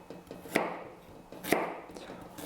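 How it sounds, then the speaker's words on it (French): A large knife chops carrots into small slices on a board, with three sharp, evenly spaced thuds about a second apart, close and clear, over soft handling noise. "Allez, on prend un grand couteau et on y va. Alors, on fait des petites tranches."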